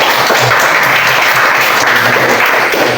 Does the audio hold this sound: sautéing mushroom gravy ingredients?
no